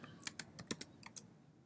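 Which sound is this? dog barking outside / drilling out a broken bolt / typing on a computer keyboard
typing on a computer keyboard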